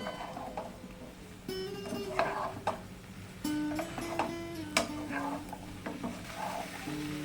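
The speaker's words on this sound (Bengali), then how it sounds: "এখন দিয়ে দেব লঙ্কা আর সর্ষের পেস্ট। ভালো করে মিশিয়ে নেব।" Chilli and mustard paste stirred into a sizzling pan while cooking a pumpkin-stem curry, with scattered utensil clicks and scrapes against a low frying hiss, and music playing faintly underneath.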